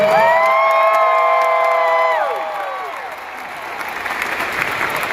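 Crowd applause and cheering with whoops at a live concert, beginning under sustained tones that fade out, then clapping that swells again.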